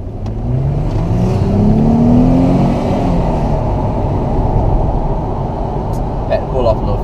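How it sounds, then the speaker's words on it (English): A Mercedes CLK convertible pulls away hard from a stop, its exhaust note rising loudly as it accelerates, then settling into a steady cruising drone with faint road noise. "Had to pull off a little fast there. Damn, that sound good, man."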